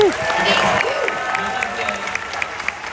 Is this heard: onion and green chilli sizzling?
no